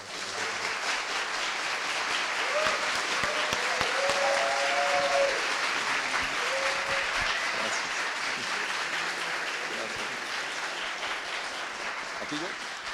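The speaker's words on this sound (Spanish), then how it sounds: "pido un aplauso para él y para Eric," An audience at a film festival master class gives sustained applause that fills the hall at steady loudness, with brief voices and shouts mixed into the clapping.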